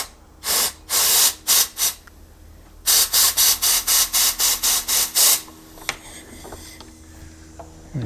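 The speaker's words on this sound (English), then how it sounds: "I'm just going to get some compressed air, see if we can blow it out" Short bursts of compressed air hiss into the tank vent of a Husqvarna chainsaw, a few irregular blasts followed by a rhythmic run of about ten quick puffs, then quiet with small clicks.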